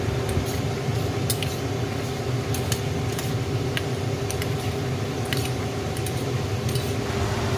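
Sauces being mixed together in a bowl with utensil clinks and scraping for prawn cooking, a steady low hum of kitchen background throughout and faint scattered taps.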